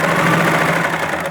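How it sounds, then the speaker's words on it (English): Sewing machine stitching the ankle hem of a trouser, a loud continuous motor whir with a fast even mechanical rattle running the whole time, close up and alone. "Then I'll start sewing."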